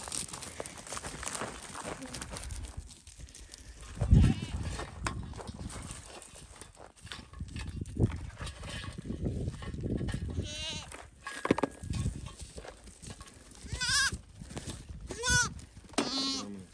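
Goats bleat several times, wavering calls at moderate distance over a busy outdoor background with some muffled voices and shuffling, at a farm in Africa.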